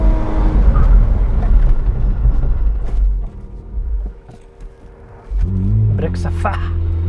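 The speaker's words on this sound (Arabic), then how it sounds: "اختبار بريك." A McLaren Artura Spider brakes hard from high speed, its engine roar falling away through a quieter stretch before rising again, heard close and loud, with a person talking over much of it.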